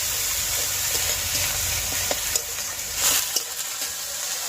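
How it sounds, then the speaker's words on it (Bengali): Ginger paste stir-fried in a pan, a steady close sizzle and hiss with occasional scraping stirs, no voices. "আদা বাটাটা 2 মিনিট কষিয়ে নেবো"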